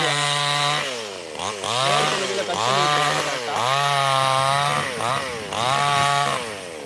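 A chainsaw cuts harvested casuarina trees to length, its loud engine revving and dipping in pitch as the chain bites into the wood, running steadily throughout.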